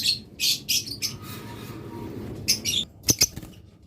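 Pet birds kept for sale, budgerigars, lovebirds and cockatiels, give bursts of high chirps and squawks, several loud calls at the start and again near the end, close by, with no talk.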